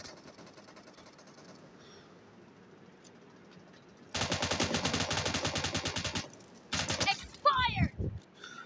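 In an arena gun-game shooter, a machine gun fires a dense, loud rapid burst lasting about two seconds, then a second shorter burst, over faint background game sounds and some voice.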